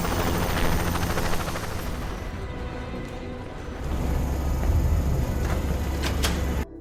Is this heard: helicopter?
yes